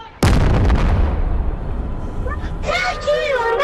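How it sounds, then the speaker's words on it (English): A firework in the VR game Animal Company bursts with a sudden loud boom that rolls into a long rumbling decay, followed by excited voices talking and shouting. "Look at the firework!"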